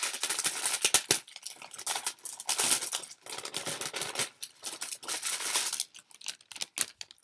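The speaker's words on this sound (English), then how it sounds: "so I'm going to try and get this out with a minimum of crinkling." A fabric cross stitch piece is drawn out of its wrapping with close, crisp crinkling and rustling in irregular bursts and short pauses, fading to a few scattered rustles at the end.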